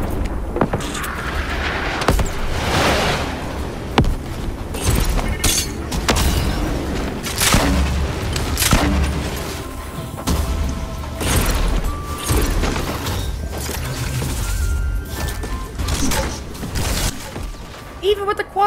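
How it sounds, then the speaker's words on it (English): Rapid bursts of explosions and shattering blasts from a Fortnite squads match with high explosives, dense and loud throughout, with a player talking over the chaos. "Everything's being exploded."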